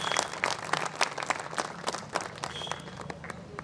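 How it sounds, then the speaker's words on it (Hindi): Audience applause at a Hindi kavi sammelan poetry recital, a steady patter of many hands clapping in a hall, moderately loud and continuous with scattered sharper claps standing out. "सदन की ओर से निवेदन करूंगा कि उनके सम्मान में तालियां बजाएं।"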